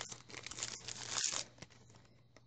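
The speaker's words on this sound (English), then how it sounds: "And there's my nice crinkly paper." Crinkly paper being handled and scrunched for a beach-themed junk journal, a close, quiet run of rustling and crackling with a brief sharper tearing burst.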